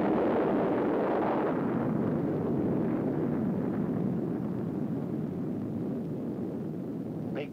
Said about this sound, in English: Big bomb.